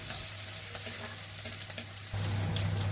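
Ginger, green chillies and curry leaves sizzle steadily in hot oil in a pan for a fish curry, a continuous crackling fry that grows louder near the end.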